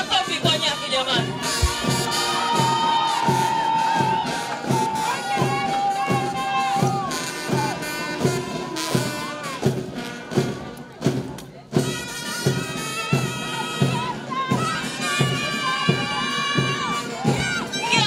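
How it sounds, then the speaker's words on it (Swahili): A crowd at a wildlife conservation training graduation ceremony in Pasiansi, Mwanza, cheers, shouts and claps for a graduate, with loud ongoing celebration over band music and brief pauses before the noise surges again. "Makofi kwa Nyake jamani."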